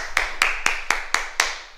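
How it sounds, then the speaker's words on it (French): A martial arts class claps in unison after an exercise, six sharp, evenly spaced claps ringing close and loud with a brief echo between each. "Et on s'applaudit"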